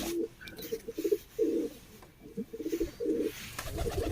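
A pigeon coos in soft, repeated throaty bursts, close by, with brief pauses between phrases and faint background noise.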